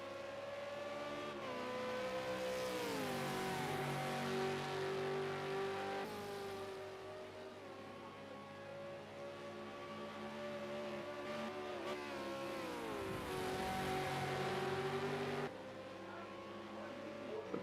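V8 Supercars racing at Bathurst, engine notes swelling and falling as cars rev, shift and pass through the bends, several distinct passes and gear changes over a constant mid-level roar, with no talk.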